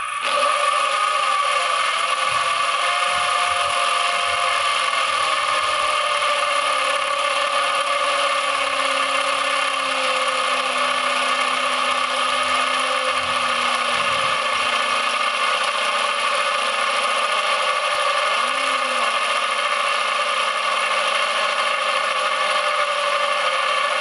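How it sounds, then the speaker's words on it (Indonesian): A loud, continuous whining from a Bosch GSB 550 impact drill boring into a concrete roof tile runs without pause, with a steady high-pitched grinding and rattle throughout and no voices. "setelah ini kita akan bor genteng beton"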